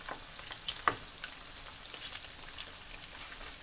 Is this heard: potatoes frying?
yes